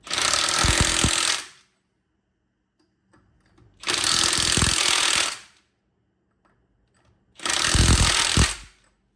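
Impact wrench hammering on car wheel bolts, a Pontiac G8 GT with freshly painted calipers and rotors, in three loud rattling bursts of about a second and a half each, separated by near silence.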